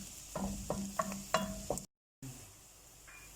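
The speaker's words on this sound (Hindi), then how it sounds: "और बाकी प्याज को मैं गोल्डन करूँगी।" Onions frying golden in a pan are stirred in several quick scraping strokes over a soft sizzle, then the sound cuts out briefly before a quieter sizzle continues.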